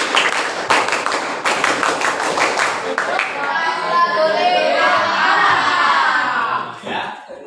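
A group of children performs the tepuk Ipan clapping routine, several rhythmic rounds of sharp unison claps in the first half before the claps give way to excited shouting and chatter.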